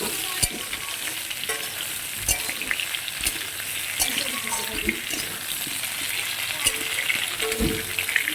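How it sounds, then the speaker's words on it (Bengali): Potatoes and mixed vegetables fry together in a pan, giving a steady close sizzle broken by scraping and clattering stir strokes, with faint watery crackle underneath. "আলুটা অল্প আগেই ভেজে নিলাম, এখন একসঙ্গে সব ভেজে নিচ্ছি।"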